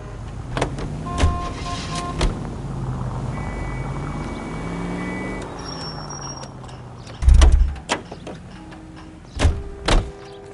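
In L.A. Noire, a commandeered car's door opens and shuts and its engine runs, with a low idle under music, then a heavy door thump and further clunks toward the end.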